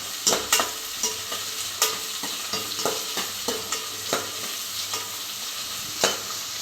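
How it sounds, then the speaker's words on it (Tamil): Onions sizzle steadily in a hot pan for a fish curry, with repeated clinks and scrapes of a spoon stirring at irregular intervals; no talking. "வெங்காயம் நல்லா வதங்கட்டும்."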